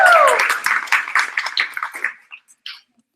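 A small group at a holiday team meeting gives a short burst of clapping and cheering that quickly thins to a few scattered claps and fades out.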